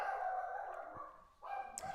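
A household dog makes a brief vocal sound, likely a bark or yelp, near the microphone in an indoor room, one short outburst then quieter, with no speech.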